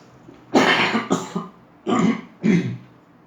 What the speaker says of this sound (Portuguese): Eu não me sinto à vontade de estar tossindo assim